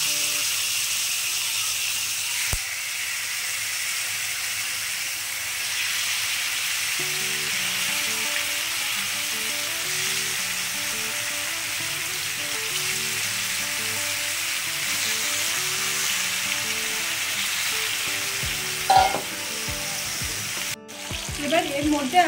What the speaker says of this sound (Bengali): এর মধ্যে আমি সেদ্ধ করে রাখা কচুর শাকগুলো দিয়ে দেব।